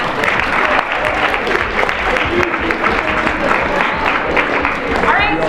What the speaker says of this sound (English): Big round of applause for all our winners.